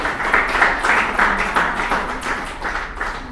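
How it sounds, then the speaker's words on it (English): Scattered clapping from the audience at a stress-management training session, a loose round of handclaps pulsing unevenly and fading slightly toward the end. "Please, a round of applause once again."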